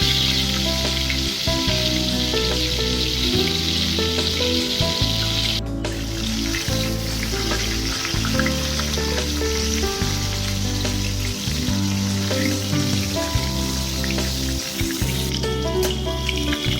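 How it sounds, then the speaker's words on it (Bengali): Slit pointed gourds fry in oil in a pan with a constant loud sizzle and crackle, while a low, tonal rhythmic hum runs underneath throughout. "ভালোভাবে নেড়ে চেড়ে ভাজা করে নেব"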